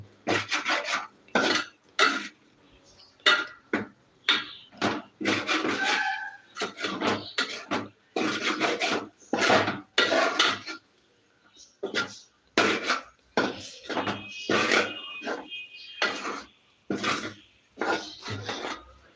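A semolina (rava) mixture being stirred in a pan, with repeated scraping and clinking strokes of a spoon against the metal and someone talking throughout.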